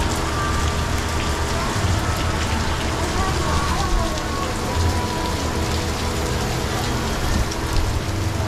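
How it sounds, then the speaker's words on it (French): Heavy rain pours down steadily during a thunderstorm at the Dollywood theme park, a loud, dense and unbroken hiss of drops on surfaces throughout. "on s'est pris une pluie sur la tronche, mais monumentale, les gars, on s'est fait rincer"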